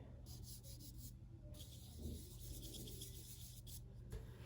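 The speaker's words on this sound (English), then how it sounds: "then we're gonna rub everything in here" Colored chalk rubbed over paper while blending a snowman drawing in a first-grade art lesson, heard as faint, steady scratchy strokes close up with short pauses between passes.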